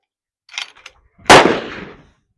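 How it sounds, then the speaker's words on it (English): A single loud gunshot at a shooting range, a sharp crack with a short decaying tail, preceded by faint brief handling noises. "I'm just going to shoot again."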